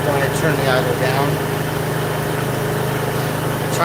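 A Chinese 125cc scooter engine that has sat unused for six months idles steadily and loud, a constant low throb with a fairly high idle, while a person talks over it.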